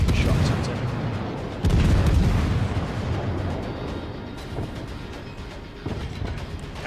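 Battleship guns fire at an enemy aircraft carrier in World of Warships, heavy booming salvos rolling into a dense, loud rumble of ongoing battle noise, with someone talking over it.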